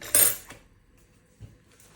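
A fork mashing cottage cheese for syrniki dough clinks and scrapes against a bowl in one brief burst, followed by a couple of soft taps in otherwise quiet surroundings.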